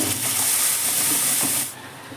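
Green pea paste lands in hot oil with fried ajwain, giving a loud, continuous spattering hiss that cuts off sharply near the end.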